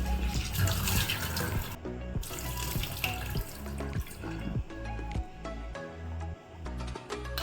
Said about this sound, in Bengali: এবার আলুগুলোকে খুব ভালোভাবে আমি ধুয়ে নেব, ঠিক আছে, জলেই পরিষ্কার করে।